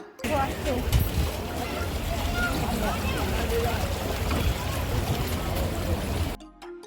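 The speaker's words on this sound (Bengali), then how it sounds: "সবাই বোটে উঠে পড়েছি বোটে উঠে বসে পড়েছি সবাই তো এখন যাওয়া যাক গঙ্গা এখন এপার থেকে ওপার হবো" A passenger boat sets off across the Ganges at Ram Jhula in Rishikesh, with a steady rush of water and motor noise beneath close, continuous chatter from people aboard.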